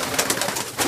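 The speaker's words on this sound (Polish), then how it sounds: "Pokażmy tego gołębia." A racing pigeon coos in short, close, repeated pulses, fairly loud, with no other sound.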